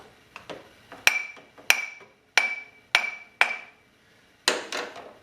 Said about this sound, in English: then tap around the flywheel